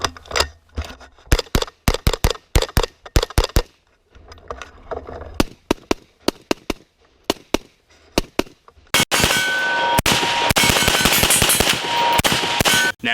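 Rapid gunfire from a 10.5 inch AR upper rifle: sharp, loud shots, some single and some in quick strings, then a dense burst of rapid fire toward the end, with no talking.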